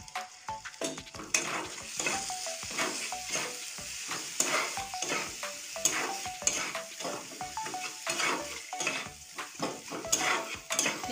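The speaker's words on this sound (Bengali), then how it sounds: "এবার আমি মশলাটা সুন্দর করে কষিয়ে নেব।" Spice paste of ground turmeric and coriander sizzles and fries in a pan while a utensil stirs and scrapes it repeatedly in an uneven rhythm, close and clear with no talking.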